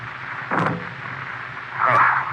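A silenced gunshot in an old radio murder drama, a muffled soft thump followed a beat later by a second dull puff, close and fairly quiet, without voices.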